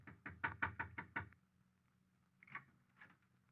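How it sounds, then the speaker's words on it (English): A series of seven sharp knocks on an apartment door in a housing project, fast and evenly spaced, followed by quieter shuffling sounds near the door. "I knocked on the door."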